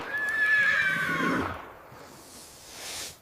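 A horse lets out a loud, high whinny that trails off after about a second and a half, followed by quieter rustling and a faint rising noise; the horse is being attacked by a giant python.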